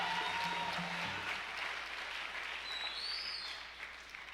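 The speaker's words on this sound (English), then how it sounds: "So give yourselves a round of applause." A graduation audience applauding, a dense, steady wash of clapping from a large crowd heard from a distance, slowly fading, with a few faint voices mixed in.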